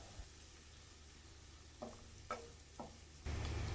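Onions stir-fried in a pan for a rice dish, heard as a faint low sizzle with a few soft scrapes of the spatula, the frying growing louder near the end.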